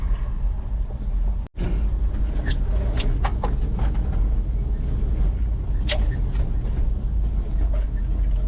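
An old Chevrolet square body truck drives along a rough hill track, with a steady engine and road rumble, rattles and clunks throughout and one brief drop-out near the start.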